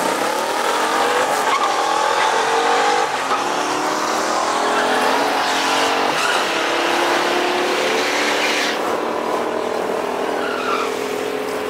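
Drag race cars at the F.A.S.T. 2023 Spring Nationals at US 131 Martin Raceway roar loudly and continuously throughout, with engine revving and a squeal of tires and no talk over the top.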